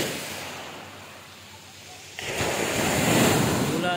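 Strong sea waves break on a shore during a coastal foraging trip, a low windy rumble that suddenly swells louder and closer about halfway through, with gusty wind noise on the microphone.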